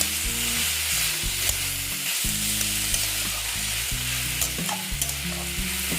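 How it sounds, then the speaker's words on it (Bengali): Ash gourd and grated coconut being stirred in a frying pan, a steady close sizzle with repeated scraping strokes of the spatula throughout, no voices. "নেড়ে চেড়ে নিচ্ছি"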